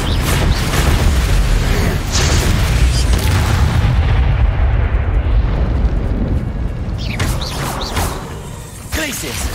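Confringo blasting spell from the Hogwarts Legacy video game, set in a battle arena fight: a steady run of loud booming explosions and bursts piling onto one another throughout, with a thick low rumble and brief sharp cracks near the end.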